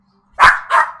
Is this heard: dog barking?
yes